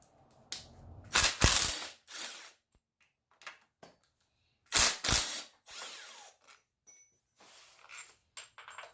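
A ratchet with a 13mm socket loosens bolts while a starter is removed during a Lincoln MKX/Ford Edge engine swap. Several short bursts of close, rapid mechanical clicking come with pauses between them, and no one speaks.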